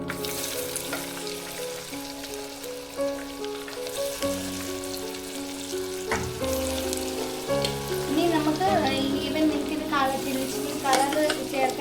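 Bread-and-chicken snack pieces deep-frying until crisp in hot oil, a steady bubbling sizzle throughout with occasional stirring clatter and background music, no speech.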